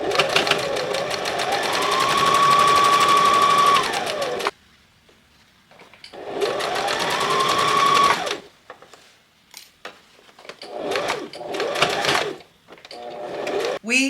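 Domestic sewing machine stitching a new hem on a tailored blazer, with two long, steady runs of loud, close motor whir and needle clatter, followed by shorter bursts of stitching separated by pauses.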